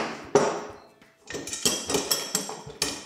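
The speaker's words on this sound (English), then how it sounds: "To take these push nuts off, claw hammer works just fine." A claw hammer pries and knocks at metal push nuts on a pop-up camper's bed leg, giving a run of sharp metallic clanks and scraping clinks, close and fairly loud, roughly eight hits in quick uneven rhythm.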